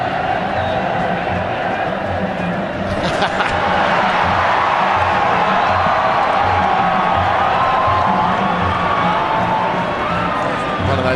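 A packed stadium crowd at a World Cup qualifier between Saudi Arabia and Australia roars continuously after a goal, a loud, steady wash of cheering and whistling, with a commentator's voice talking over it.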